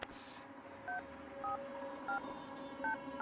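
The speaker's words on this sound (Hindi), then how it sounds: "तू फोन लगाएगा ठीक है प्लीज?" A phone number is dialed on a handset, with five or six short DTMF tones sounding one at a time at an unhurried pace. The tones are quiet and clear over a soft background hum.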